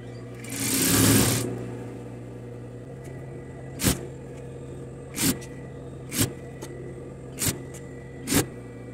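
Sewing machine stitching a pleated school skirt at the waistband and zipper area: a loud continuous motor run near the start, then five short separate bursts of stitching spaced a second or so apart, with a steady low hum underneath.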